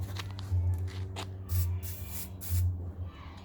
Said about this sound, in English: So the first thing you want to do is spray some WD-40.